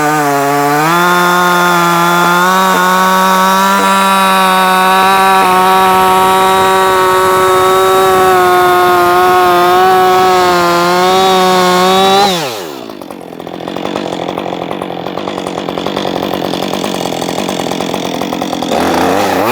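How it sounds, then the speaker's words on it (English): Husqvarna 562xp chainsaw cutting wood, a loud, close, high-revving engine snarl held steady for about twelve seconds, then dropping sharply in pitch and settling into a rough idle. "let's do a couple cuts with it to get the auto tune set"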